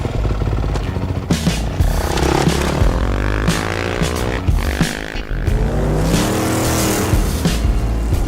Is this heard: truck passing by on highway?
yes